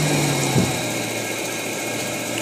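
Steady hum of a car engine idling after its vacuum hose is reconnected, a constant droning tone with a small knock near the start and a slight drop in pitch, no one talking.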